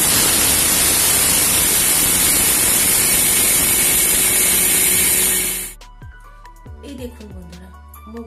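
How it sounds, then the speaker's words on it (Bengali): An electric mixer grinder grinds dry moong dal into a fine powder with a loud, steady, roaring whir for several seconds, then cuts off abruptly, leaving a few light clicks and handling sounds. "মিক্সিতে দিয়ে একদম মিহি করে গুঁড়ো করে নেব, শুকনো উইদাউট ওয়াটার বা মিল্ক।"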